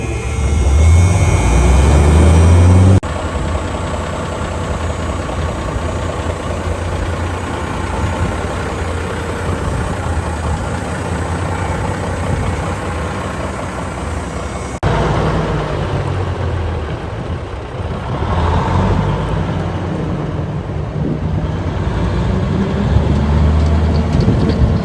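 A 5-ton military truck engine runs and drives, giving a loud, heavy, continuous drone that shifts in pitch as it pulls along, with no talking.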